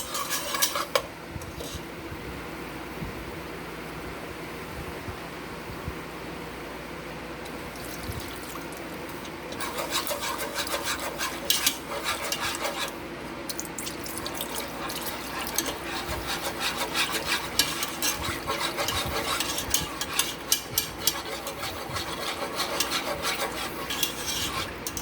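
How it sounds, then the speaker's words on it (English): Milk being stirred into a macaroni cheese sauce in a pot, a steady scraping and rubbing of a utensil against the pan that runs continuously, with denser clattering strokes in the later stretches. "Now to this, we're going to add our 2 cups of milk."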